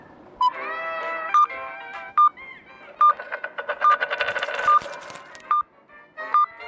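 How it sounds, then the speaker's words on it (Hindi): Phone message notification chime, a bright electronic tone that repeats several times at a moderate pace over a fluttering tonal sequence, fairly close and clear with no voices. "मैसेज आ गया यार मेरे को बीच में।"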